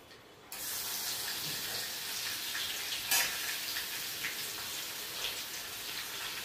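Chopped onion dropped into hot oil with cumin seeds for a Marathi moth bean usal, bursting into a sudden loud sizzle after a quiet start, then a steady crackling hiss with scattered pops.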